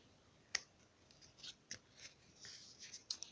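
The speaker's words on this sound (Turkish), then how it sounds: "Şimdi şu üst köşeleri oval olacak şekilde kesiyoruz" Scissors snip the top corners of a folded paper piece into oval curves, a series of sharp, crisp clicks spaced irregularly over near silence, close and fairly quiet.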